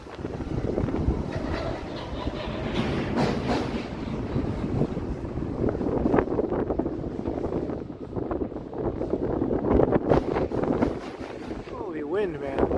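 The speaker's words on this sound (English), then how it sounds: "Holy wind, man." Strong wind gusting across the Toronto waterfront near the financial district, a steady roar buffeting the microphone for the whole stretch, with bursts of talk from people nearby.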